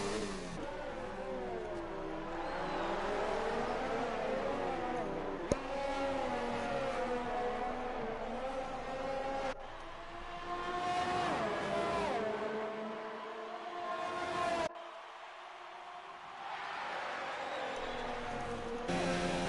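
Race cars in a Formula 1 racing video game, including a bright red Ferrari, whining engines rising and falling in pitch through gear shifts, loud and continuous with abrupt cuts between onboard views.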